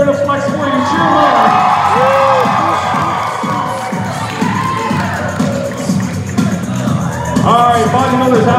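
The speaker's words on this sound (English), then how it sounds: "The more you cheer, the more they're going to flex for you." Loud, excited crowd at a hypnosis stage show cheers, whoops and shouts for volunteers flexing as bodybuilders, swelling in waves with high yells and babble throughout.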